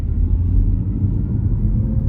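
A Mazda MX-30 EV accelerates at full throttle, giving a steady, muffled low road and tyre rumble with no distinct engine note, no talk heard.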